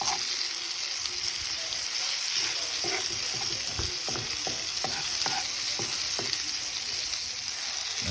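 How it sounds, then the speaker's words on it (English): Flour stirred into pheasant fat in a pan for a roux: a steady frying sizzle underlies repeated scraping and tapping strokes of a utensil against the pan, close and distinct. "stir that up with the fat. Basically, this is making an in-pan roux"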